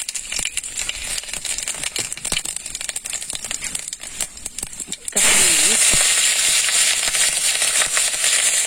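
Cumin seeds, bay leaf and dried chilli hit hot oil in a village kitchen, bursting into a loud, steady sizzle that jumps up sharply partway through and stays dense, after an earlier stretch of clattering and crackling.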